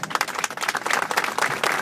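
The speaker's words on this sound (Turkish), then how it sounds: "biz bir kez daha alkışlamak istiyoruz kendilerine" Crowd applause at a street press statement in front of a company headquarters, dense clapping from a gathered group, moderately loud and steady with slight surges, no talking over it.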